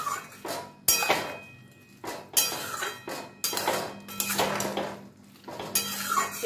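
Prawns, potatoes and okra are stirred together in a curry pan, with bursts of a metal spoon scraping and clanking against the pan in an irregular rhythm and soft sizzling between the strokes.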